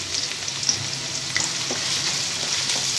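Garam masala frying in hot oil in a kadai, a close, steady sizzle with a few small pops and light stirring scrapes, with no voices.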